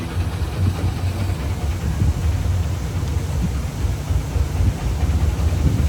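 A boat engine runs on the water near Barkal in Rangamati, a continuous low rumbling drone, loud and close, with no talking.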